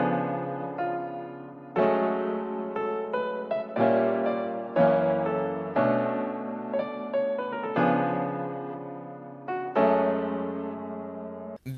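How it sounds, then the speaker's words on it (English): Keyscape virtual piano with post-processing plays a sequence of sustained chords for an R&B bedroom track, each chord struck and left to ring before the next, steady and close with no voices. "This is just a piano from Keyscape and with some post-processing."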